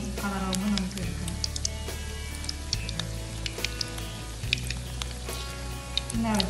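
Bread pieces deep-frying in hot oil for bread gulab jamun give a steady, close bubbling sizzle throughout, dotted with small crackles and pops as they cook.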